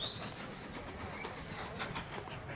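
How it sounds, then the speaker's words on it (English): Log train in the Mashinky railway-building game rolling past with steady clickety-clack wheel noise and faint squeals, a continuous moderate rumble with no talk. "That's our log train coming through, just passing by."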